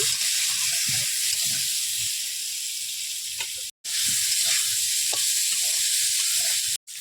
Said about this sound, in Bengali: এবার ভালো করে আলুটাকে ভেজে নেব।